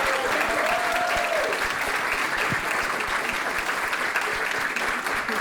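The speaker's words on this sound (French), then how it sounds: "Merci, Edgar, on peut l'applaudir." An audience at a live talk show applauds loudly and steadily for a guest named Edgar, dense clapping filling the whole stretch while a voice briefly rises over it near the start.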